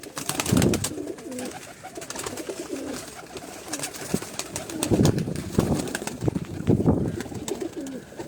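Pigeons of the Gujrat white gold line coo in low, throaty bursts, several rounded calls close by at intervals over a steady background murmur of birds, with brief wing and movement sounds between.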